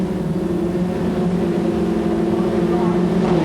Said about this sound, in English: Revs rise as they await the start.